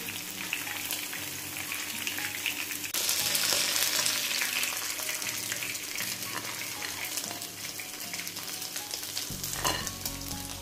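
Chicken 65 pieces deep-frying in hot oil, with a dense, continuous loud sizzle and crackle and occasional stirring or scooping sounds, no voices.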